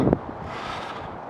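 Wind buffets the microphone in a short gust high in the mountains, a low rumbling roar with a brief louder thump at the start, no voices.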